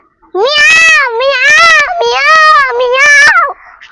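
A voice mimics a cat with four drawn-out, wavering meows in a row, loud and close, each rising and falling in pitch.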